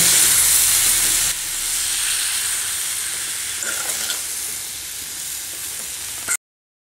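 Chili powder masala frying with tomatoes in a pan for a drumstick fry: a loud, steady sizzle that eases slightly after the first second, then cuts off abruptly near the end, with no talk.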